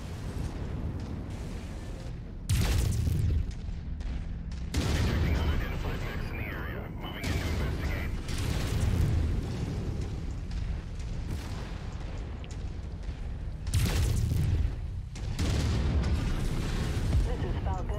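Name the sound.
tank destroyed with explosions in video game MechWarrior 5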